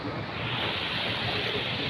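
Fast, turbulent flood water of the Ghaggar river in Patiala district rushes steadily as a broad, continuous roar, close and loud, with wind buffeting the microphone and no speech.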